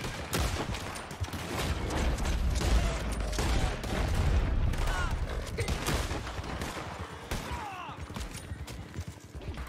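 Dense, continuous gunfire from a Red Dead Online shootout, with many overlapping shots cracking close and far in a busy fusillade and occasional horse hooves, while a voice briefly calls out over the din.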